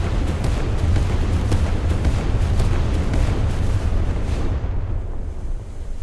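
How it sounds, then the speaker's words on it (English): Main gun shell volleys from the battleship Yamato in a naval warfare game: a sustained, loud rumble of heavy booming blasts that rolls on continuously and then eases slightly at the end. "let's do some Yamato main gun shell volleys"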